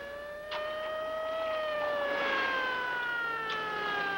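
A siren wails with a slowly sliding tone, heard from a moderate distance, fairly faint against quiet background noise.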